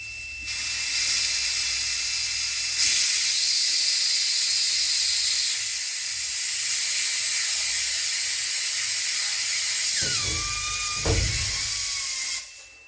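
Landing gear on an amphibious aircraft is cycled by air pressure. A loud, steady pneumatic hiss runs for several seconds, then near the end brief whining tones and knocks come through before the air cuts off.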